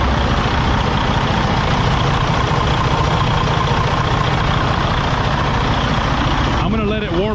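A diesel truck engine idles steadily just after start-up, a loud, close, continuous rumble with a rattling texture that holds through to the end.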